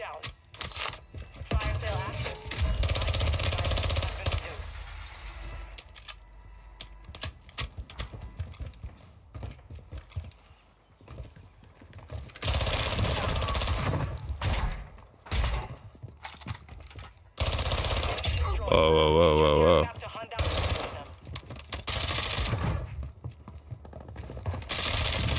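MP7 and MP5 submachine guns fire in a video game shootout on Ashika Island, rattling off rapid bursts close and loud, broken by pauses, footstep-like clatter and a player talking.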